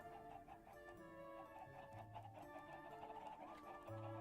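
Chickens cluck softly in a modded Minecraft world, several faint short clucks scattered under game sounds and background music, fairly quiet throughout.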